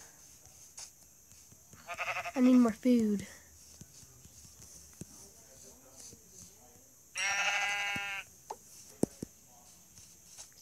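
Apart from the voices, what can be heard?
sheep bleating in the video game Minecraft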